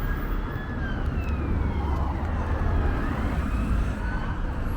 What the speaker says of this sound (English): Oh my god, there's a police car. He's like zooming up here now.